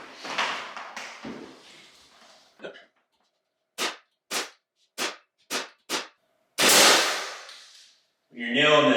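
Window trim being nailed: five sharp, evenly spaced nail-gun shots ring out close by, preceded by talk and handling noises and followed by a loud hiss of air and more speech.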